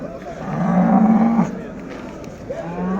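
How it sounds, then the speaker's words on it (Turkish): A native heifer moos at a livestock market, one loud drawn-out low call followed by a shorter second moo, with faint crowd murmur in the background. "Burada bir yerli inek var. Düve."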